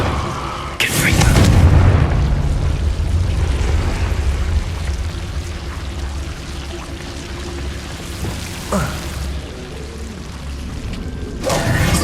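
A Confringo blasting-curse explosion in Hogwarts Legacy lands as a sudden heavy boom followed by a low, rolling rumble, with a later smaller burst and someone talking in the background.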